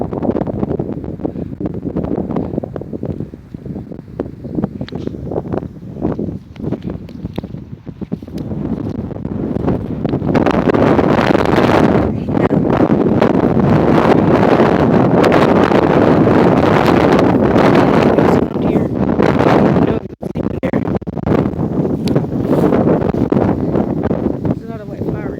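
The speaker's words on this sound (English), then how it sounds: "It's too windy." Strong outdoor wind buffets the microphone in a continuous loud roar that swells and gusts, growing heaviest in the middle, with a voice faintly buried underneath.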